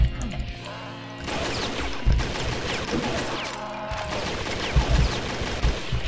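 Dense, continuous gunfire and crashing effects fill a co-op session of the video game Doom TNT: Evilution with the Brutal mod, loud and busy throughout.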